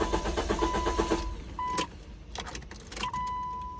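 A Ford Mustang with a dead battery, jump-started with a Hulkman Alpha Pro pack: a rhythmic starter crank with warning chimes, then the engine catching and settling into a steady idle up close.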